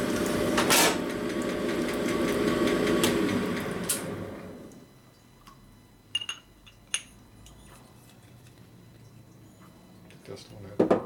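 An S&S 96ci big bore Evo Harley cylinder honed by hand, a loud steady grinding-rasp for about four seconds that cuts off, followed by a few scattered metallic clinks and someone speaking nearby.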